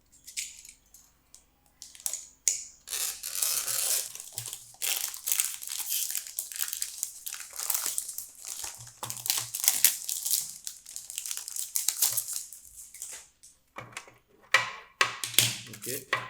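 A new plastic extension switch box is unpacked with bursts of crinkling plastic packaging and rustling, interspersed with small clicks and handling knocks, close up and irregular, and a few quiet pauses between.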